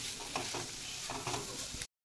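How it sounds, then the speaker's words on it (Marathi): Steady sizzling and stirring of fresh coconut roasting in a hot pan, with light scraping strokes over a continuous crackle, close and moderately loud, then an abrupt cutoff. "मी भाजून घेतलंय ओलं खोबरं आणि कोथिंबीर"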